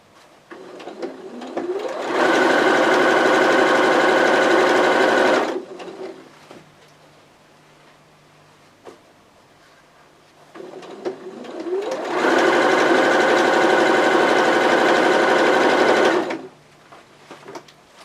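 Sewing machine stitching a pillowcase baby dress, two long steady bursts of fast, close, loud running stitches separated by a quiet pause with light handling sounds.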